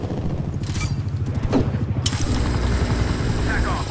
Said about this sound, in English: Hostile attack helicopter inbound.